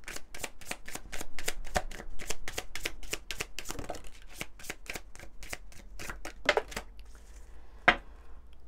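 Tarot cards being shuffled by hand in a long run of quick, crisp riffling bursts, close and fairly quiet with no voice over it, ending in a few louder card slaps.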